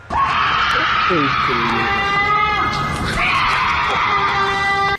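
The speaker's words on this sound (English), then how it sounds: "This horrifying sound, according to its uploader, is a cougar mating call" A cougar mating call, a loud sustained shrieking scream like a woman's, repeated in long wavering cries close by.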